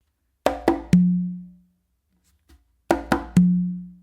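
A conga de comparsa pattern is played close up on congas: two sharp slaps and then a ringing open tone on the tumba, played twice with a pause between.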